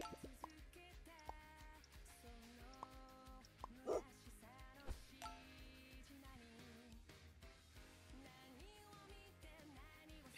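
Cartoonish dog barks and yips from the Super Auto Pets video game, a few short bright sounds over layered game music and jingles, with one louder bark standing out near the middle.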